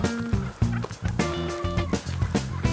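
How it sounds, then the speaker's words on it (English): Wild turkeys in the woods gobble loudly and repeatedly in rapid, rattling bursts, several overlapping calls close by with no talking. "Here's some turkeys. Let's see if we can get them to gobble for us."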